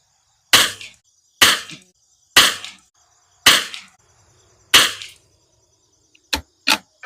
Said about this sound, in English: Doing another 5-group shot.